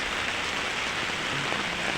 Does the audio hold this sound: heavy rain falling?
yes